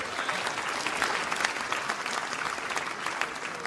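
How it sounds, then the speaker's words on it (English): A live audience at a Brexit-themed event gives itself a round of applause, a steady, dense roar of many hands clapping that holds for several seconds at moderate loudness. "Give yourselves a round of applause"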